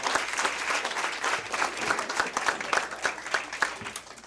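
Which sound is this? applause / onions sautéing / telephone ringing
applause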